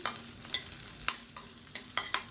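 Green chillies and ginger fry in a pan, giving a soft sizzle broken by a series of sharp scraping stirs at a steady pace, close and fairly quiet.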